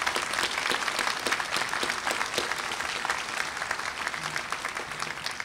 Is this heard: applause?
yes